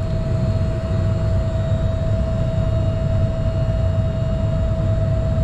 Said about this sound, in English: I hear something running. That must be the indoor fan.